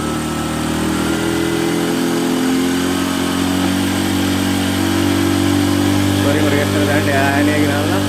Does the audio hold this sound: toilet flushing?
no